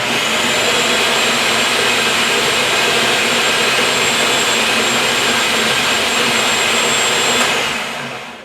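A blender gives sauce ingredients one more whirl, a loud, steady high-pitched whine that runs unbroken for several seconds before cutting off at the end.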